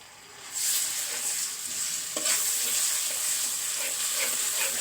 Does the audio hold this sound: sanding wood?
no